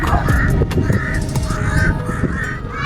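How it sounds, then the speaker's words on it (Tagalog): Several crows caw repeatedly in a loose, overlapping rhythm, fairly close, over a rumbling outdoor background. "Yan oh, daming uwak oh."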